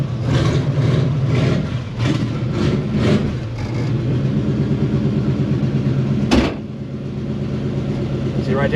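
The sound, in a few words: carbureted Holley car engine cold starting and running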